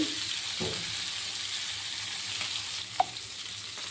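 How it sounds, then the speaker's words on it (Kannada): Pomfret fish coated in rava frying in a pan of oil, a steady close hiss of sizzling throughout with a couple of faint clicks from the pan, no voices. "ಇನ್ನೊಂದು ನಾಲ್ಕು ಮೀನ ನಾನೀಗ ರವೆ ಫ್ರೈ ಮಾಡ್ತಾಯಿದ್ದೀನಿ"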